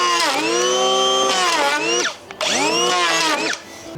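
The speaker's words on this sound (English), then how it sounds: "we'll give it a quick pass over with the planer" Power planer passing over timber framing for a large single-story house, a loud, close, high whine that rises and drops in pitch over two long passes, with a short dip between them and a tail-off at the end.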